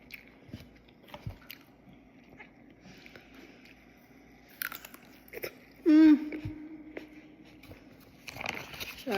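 Crisp bites into a sweet, crunchy fruit with an apple-like texture, followed by moist chewing, close up; soft crunches scattered through a quiet room and a louder sharp bite near the middle.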